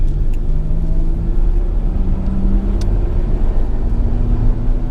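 A 1990 Mazda Eunos Cosmo 20B Type S accelerates on a test drive, a loud continuous engine rumble and rising drone heard from inside the car without speech.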